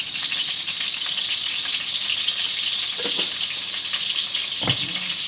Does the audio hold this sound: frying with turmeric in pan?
yes